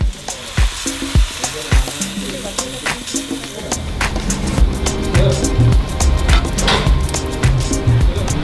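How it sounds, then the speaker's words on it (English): Steady loud sizzling of onions, garlic, cinnamon and garcinia frying in a pot at a Sri Lankan street food stall, with scattered clinks and stirring knocks throughout. "She's frying up some onions, garlic, some cinnamon, and garcinia"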